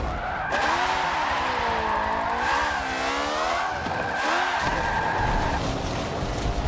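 A Honda Civic drift car built in a racing video game, its engine note swooping up and down through gear changes with tire squeal and skidding, loud and continuous with no talk.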